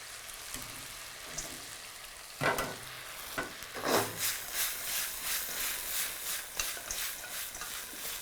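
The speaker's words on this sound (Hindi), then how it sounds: "और अब गोभी निकालिए और सॉस में डालिए।" Fried cauliflower pieces tossed into Manchurian sauce in a pan, with a couple of sharp scraping knocks followed by a steady wet sizzle and stirring, close and moderately loud.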